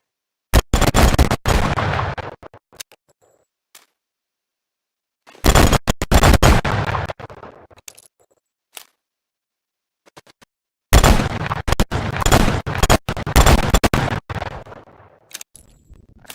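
Revolver shots in the Phantom Forces video game come as three separate bursts of loud, sharp reports, each with a ringing tail, with short silent gaps between them.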